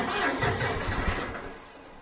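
An engine cranks over in cold weather, a steady churning grind lasting about two seconds that gradually fades without clearly catching and running.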